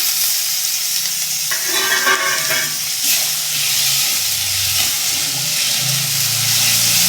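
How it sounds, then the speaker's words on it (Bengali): Chopped tomato sizzles as it fries in ginger-garlic paste in a pan, a steady close hiss and crackle with occasional stirring and scraping throughout. "আদাটা কষিয়ে নিয়েছি, এবার দিয়ে দেবো টমেটো কুচি।"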